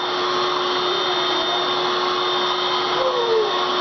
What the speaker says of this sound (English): Yeah, you're vacuuming.